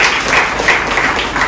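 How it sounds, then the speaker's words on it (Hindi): Loud, sustained clapping from a church congregation during a Hindi Sunday service, many hands together in a thick, even wash of sound close by, with no speech over it. "परमेश्वर के वचन के लिए जोर से ताली बजाइए।"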